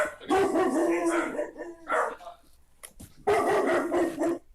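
Dogs bark in loud, close bursts, several barks in quick succession with short pauses between them.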